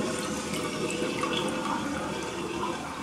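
Water drains steadily out of a sink after a lye cleaning, a loud, continuous gurgling rush close by with no talking.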